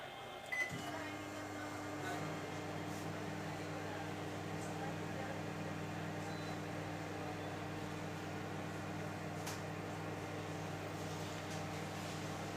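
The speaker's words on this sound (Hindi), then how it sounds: "रिफाइंड को 1 मिनट के लिए माइक्रोवेव करेंगे।" A Samsung smart microwave oven heating refined oil hums steadily at low volume after a click, a constant electrical drone with faint background noise.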